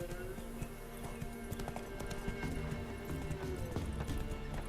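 Roach, Geralt's horse in The Witcher 3, gallops with a steady clip-clop of hooves under a continuous game soundscape and music, with a brief whinny and faint voices in the background.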